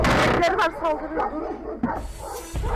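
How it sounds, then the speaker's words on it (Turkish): Dogs bark and yip in rough bursts close by, with noisy scuffling and breathy sounds in between. "Köpekler saldırır."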